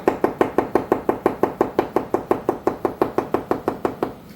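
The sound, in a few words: slicing vegetables with a knife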